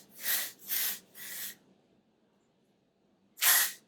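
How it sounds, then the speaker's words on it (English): Texturizing hairspray hisses onto hair in four short, close bursts: three quick sprays in a row, then a pause and a final spray, each a sharp airy whoosh against near silence. "You just shake it up, spray it"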